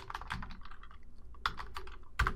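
Typing on a computer keyboard, a handful of crisp, close keystrokes in uneven clusters with short pauses between them, moderately quiet with no talk.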